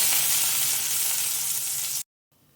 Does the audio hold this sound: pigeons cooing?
no